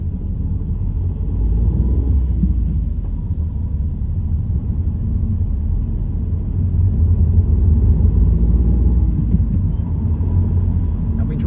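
Car engine and tyre rumble while driving on a road approaching a roundabout, a steady low drone swelling slightly at times, heard from inside the cabin.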